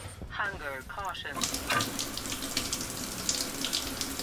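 A shower runs in a video game, a steady hiss and splash of water that starts after a short burst of voice and then continues loud and close.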